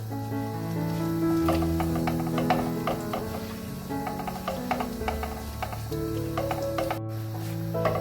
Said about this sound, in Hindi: इसको मैं हल्का सा फ्राई करूंगी जीरे को